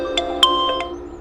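A short electronic mobile phone ringtone of a few quick bright tones, clear and fairly close, fading out after about a second.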